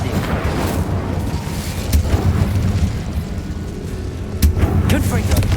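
Incendio fire spell cast in the video game Hogwarts Legacy, a loud, dense whoosh of flame with a couple of sharper bursts, set against a steady backdrop of game noise.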